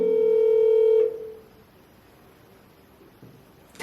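A telephone call tone sounds as one steady, loud beep about a second long, then quiet line hiss, with a brief click at the end.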